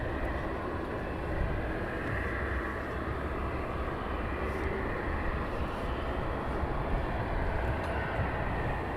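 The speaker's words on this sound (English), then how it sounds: "The Fedex has just taken off." A FedEx cargo jet climbing away after takeoff at night, a steady broadband engine roar heard from a distance, continuous and even throughout.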